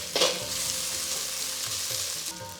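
Onions sautéing with ginger, garlic and chili paste in a hot pan, a loud continuous sizzle with a brief sharp crackle at the start as the paste hits the oil and light stirring scrapes, no talk.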